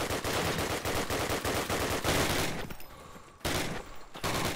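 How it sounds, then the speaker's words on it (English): Dense automatic gunfire from Call of Duty: United Offensive, loud sustained bursts of shots that briefly thin out before another burst, no talk over it. "Exmo shooting a little bit at his teammate who came all the way from Rush House"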